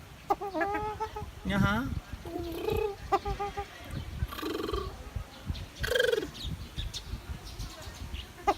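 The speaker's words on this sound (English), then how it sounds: "That's a peacock." A large peacock gives several loud, harsh, honking calls in uneven bursts outdoors, mixed with other bird sounds, while a person speaks briefly nearby.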